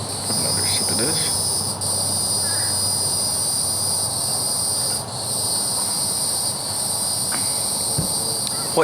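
Cicadas drone steadily through a rainy July evening, a loud, constant high-pitched buzz that stays unbroken for the whole stretch, with no talking over it.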